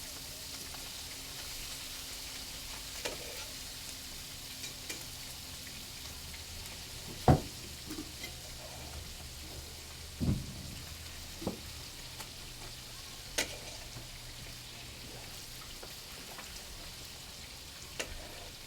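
Food frying in a pan gives a soft continuous sizzle close by, with scattered sharper pops and stirring clicks, no talk.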